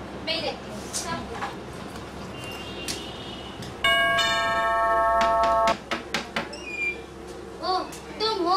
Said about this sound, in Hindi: घंटी बजी, मैं देखता हूँ